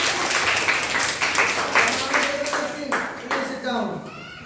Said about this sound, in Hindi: जोरदार ताली बजा दो इसके लिए